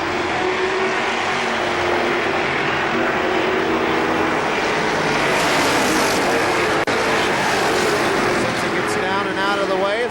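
Race cars roar around the KilKare Speedway oval as the leaders pass a slower lapped car, a dense continuous engine drone that swells slightly as they go by, with an announcer calling the race over it.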